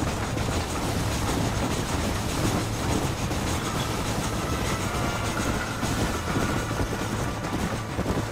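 Steam train rolling along rails in the Red Dead Redemption game world, a continuous dense rumble with steady clatter and hiss running loud and unbroken throughout, no voices.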